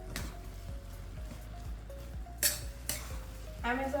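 Carrot halwa with charoli and dry fruits being stirred and mixed in a pan, with soft repeated scraping strokes at a steady rhythm and a few sharper utensil clinks, close and moderately quiet.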